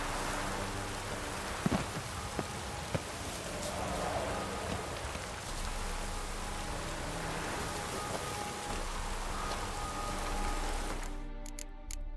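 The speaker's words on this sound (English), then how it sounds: "Looks like rain." Steady rain pours throughout in The Witcher 3, a dense, even hiss of drops with faint distant rumbles and a few scattered taps, and no voices.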